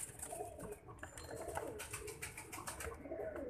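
Soft repeated pigeon coos sound from nearby birds, low and murmuring against a faint outdoor background, with no talk.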